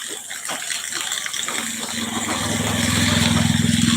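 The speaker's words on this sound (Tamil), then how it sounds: "மழையினுடைய தாக்கத்தில் வாய்க்காலில் எவ்வளோ தண்ணி போகுதுன்றதை பாருங்கள்" Rainwater gushes and rushes steadily through a channel during rain, a loud continuous flow that grows fuller toward the end, with a low mechanical hum underneath.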